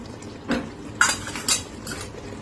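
A spoon clinks and scrapes against a pot while spices are stirred into undhiyu vegetables, giving three or four distinct metallic taps at spaced intervals over a soft, quiet background.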